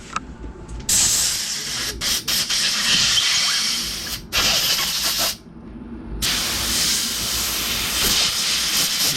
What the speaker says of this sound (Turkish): Şimdi oradaki filtreyi havayla havayla içindeki bazı pisliklerini de ekstradan alacağız arkadaşlar